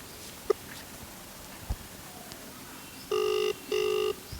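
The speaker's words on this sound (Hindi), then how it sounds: "घंटी बज रही है" The ringback tone of an outgoing voice call to a phone sounds twice as two short, even electronic bursts, with quiet background noise and a few faint clicks before them.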